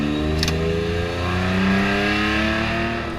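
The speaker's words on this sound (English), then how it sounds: "anxiously waiting for Cole Powelson to go back out in that LYFE Motorsports GTR" A Nissan GT-R time-attack race car from LYFE Motorsports, making four-digit horsepower at Super Lap Battle 2021, roars loudly and continuously as its engine pitch climbs steadily under hard acceleration, heard close and without talk.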